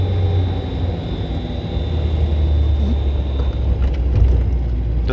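A Renault R4 is out on a test drive, with a steady low road and engine rumble from inside the car and a thin, high belt whine riding above it for most of the stretch before it fades.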